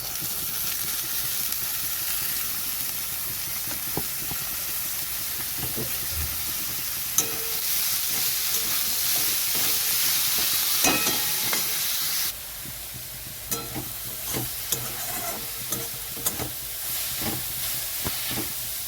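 Onions fry in a pan with a loud, constant sizzle that drops and settles midway, punctuated by scraping and tapping of a utensil.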